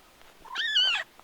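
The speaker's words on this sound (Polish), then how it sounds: "to są nasze piękne kotki, ale ja kocham kotki" A single close cat meow, rising then falling, about half a second long and alone in a quiet indoor room.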